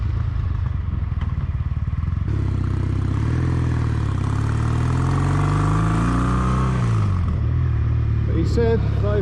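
A Kawasaki W800 motorcycle is ridden on the road, its engine droning and rising in pitch as it accelerates through the gears with wind noise, then easing off, and a voice briefly talks near the end.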